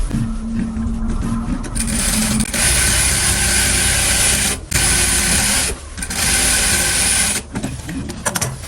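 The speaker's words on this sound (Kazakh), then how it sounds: "Мен енді қазір кармашкасын тігіп алдым." Sewing machine loudly stitching the pocket of a denim skirt, a dense, steady mechanical clatter running in long bursts broken by brief pauses.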